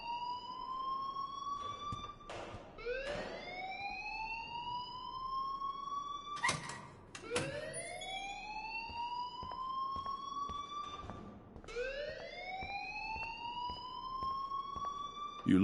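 A fire alarm rings in a video game in repeated rising, wailing sweeps, each climbing and holding before restarting, with sharp clicks and thuds between cycles, moderately loud and continuous.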